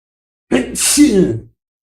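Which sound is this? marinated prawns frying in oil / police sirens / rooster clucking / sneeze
sneeze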